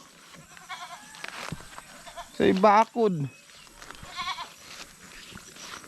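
A goat bleats twice in quick succession, loud and close, with someone talking quietly before and after.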